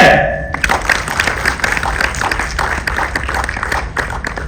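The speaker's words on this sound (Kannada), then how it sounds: "ಚಪ್ಪಾಳೆ." An audience at a book release press conference breaks into loud applause, dense clapping that starts abruptly after a brief voice and carries on steadily to the end.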